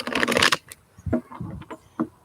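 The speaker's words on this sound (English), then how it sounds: "Okay, I'm going to shuffle these." Tarot cards are shuffled by hand during a reading, a quick flurry of crisp riffling followed by a few softer slides and taps of the deck.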